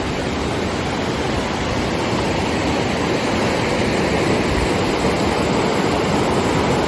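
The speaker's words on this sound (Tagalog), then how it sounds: "Yun ng agos, oh." A strong river current rushing past large rock formations at a highland campsite in Tibiao, Antique, a dense, loud, continuous roar of water with no voices.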